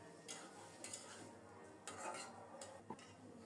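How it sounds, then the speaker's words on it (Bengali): Fish being mixed with spices in a cooking pot, a faint series of soft scraping and clinking stirs of a utensil against the pot over a low sizzle. "এবার মাছের সাথে মশলাটাকে ভালোভাবে মিশিয়ে দেব"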